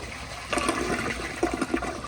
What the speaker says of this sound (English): So here's another flush.